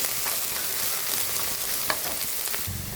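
Chopped okra and green chilies sauté in a hot pan, a steady close sizzle with faint stirring scrapes throughout and no talking.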